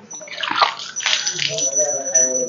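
Water splashes and sloshes in a baby's bathtub in summer, with short bursts of pouring and splashing and a voice faintly mixed in.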